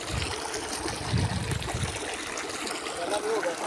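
Irrigation water flows steadily into a wheat field for its first watering, a continuous close trickling gush with low burbling throughout.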